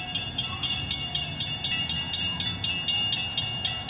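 A passenger train passes close by with a loud rhythmic clatter of wheels over rail joints, evenly spaced beats repeating about every third of a second over a steady rumble.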